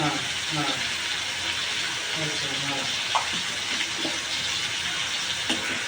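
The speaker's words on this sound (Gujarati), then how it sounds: "અડધો ગ્લાસ પાણી નાખીશું." A steady watery hiss and bubbling continue throughout as half a glass of water is poured into a hot pan of spiced brinjal curry, with faint talking in the background.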